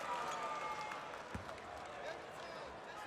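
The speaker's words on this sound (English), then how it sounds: "the North Shore fans starting to stand and cheer" North Shore basketball fans at a 5A state championship game stand, cheer and applaud in a steady roar of crowd noise filling the arena, with a commentator talking over it.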